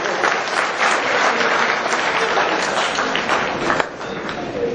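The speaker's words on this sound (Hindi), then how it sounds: "ओ वेरी गुड, ताली बजाओ।" A seminar audience of students claps steadily together, dense applause holding at an even level for several seconds, with faint voices mixed in.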